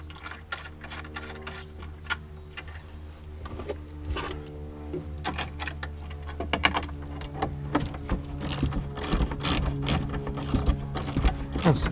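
Lock nuts being cranked tight on a 2019 fifth-generation Toyota RAV4 camper conversion, a long run of dense ratcheting clicks and mechanical clatter, close and steady with no talk.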